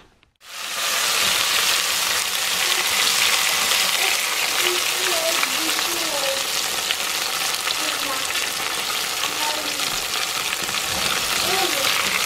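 Green tomato fritters coated in cornmeal frying in hot oil: a loud, continuous, crackling sizzle starts abruptly and holds steady close up, with faint voice-like tones underneath.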